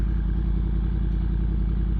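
Steady low motorcycle engine rumble heard from the rider's position while riding through city intersections on a mild May day, a continuous dense growl with faint clattering texture and no talk.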